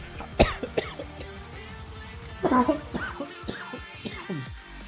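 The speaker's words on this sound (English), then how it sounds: "Sorry for the cough." A sharp, close cough rings out near the start, followed later by a second rougher cough, with scattered quiet sounds between.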